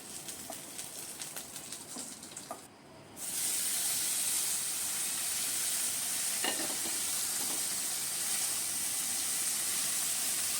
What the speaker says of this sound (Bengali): যেহেতু মাছটা টাটকা ছিল না সেহেতু আমি একটু কড়া করেই ভেজে নিলাম।